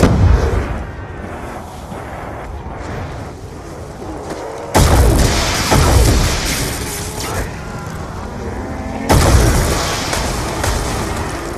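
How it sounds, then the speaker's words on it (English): Explosions and gunfire in the Origins zombies map of the video game Black Ops 2, a dense roar of heavy booms and blasts with two sharp surges that jump in loudness. "Rats could not have survived the explosion."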